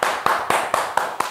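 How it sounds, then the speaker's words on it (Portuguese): Short burst of clapping at a home circus act, six evenly spaced claps, close and crisp, with no speech. "Obrigado pelas palmas."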